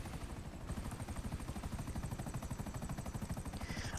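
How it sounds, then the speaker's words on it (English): Rotor of the Savage attack helicopter in GTA Online chops in a rapid, steady rhythm, loud and close throughout with no talking. "Ah yes, the Savage. Probably one of the coolest helicopters that can still compete with the big boys in GTA Online."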